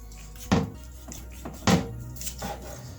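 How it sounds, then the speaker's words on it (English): A knife chops down through barbecued pork ribs between the bones on a board, two firm thuds and a few lighter cuts, close and crisp with no talking. "It's easier for you to cut them between where the bones are."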